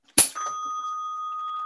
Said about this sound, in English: oh, rang the bell.